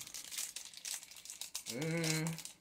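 Crinkling plastic as a dice set pouch is opened, with short rustles close to the mic, followed by a voice speaking over the end.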